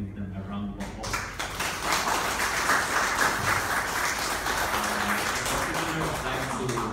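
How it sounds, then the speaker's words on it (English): Applause for election canvassing staff at a vote-canvassing session in Kuala Lumpur: dense, steady clapping from a room of people, sustained throughout, with a few faint voices underneath. "I guess we can give them a round of applause"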